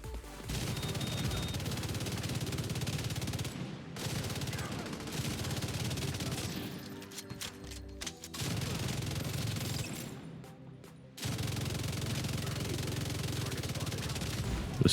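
Long, dense bursts of automatic fire from the Sleipnir gun in The Division 2 hammer on loudly with short pauses between them, and a voice talks over the shooting.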